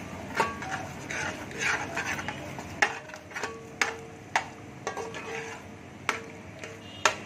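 Crumbled mawa browning in a pan as a spoon stirs it steadily, with soft scraping and a series of sharp clinks of metal against the pan at irregular intervals, fairly quiet and close.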